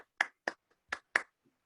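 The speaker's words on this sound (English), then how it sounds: "One more, let's clap." Four sharp, separate hand claps, spaced evenly and fairly close, sound over a quiet line during an online PTSA council meeting, with silence between each clap.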